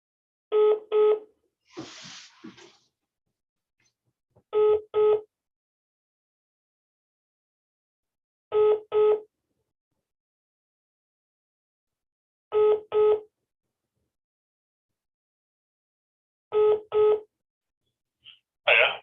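Telephone on hold with dialing tones: short paired electronic beeps repeat every four seconds or so in a steady pattern, quiet and clean, with a brief rustle early and nothing else between the bursts.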